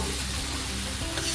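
Black chickpeas fry in a pan while a spatula stirs them, giving a steady close sizzle with scraping and stirring sounds throughout and no speech.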